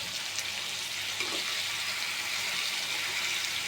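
Food frying in a pan while being stirred makes a soft, continuous sizzle and hiss, fairly quiet and even throughout, with no talking.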